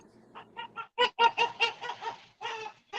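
A rooster squawks in a rapid series of about a dozen harsh clucking calls, the middle ones loudest, close and alone with short gaps between.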